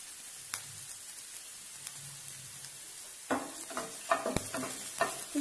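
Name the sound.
ginger and garlic frying in oil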